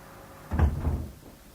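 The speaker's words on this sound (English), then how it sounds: "close the door" A door being closed in a radio drama office scene, a single dull low thump with a short rumbling tail, fairly close and heard alone with no talk.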